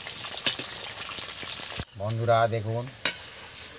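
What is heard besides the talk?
bitter gourd (uchhe) frying in a pan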